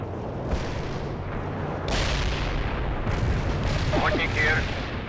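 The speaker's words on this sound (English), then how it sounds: "Firing mortars. The barrage will reach you soon." A mortar barrage in World in Conflict: a rumbling, continuous bed of distant booms and explosions with a few sharper blasts, under radio-style voice chatter.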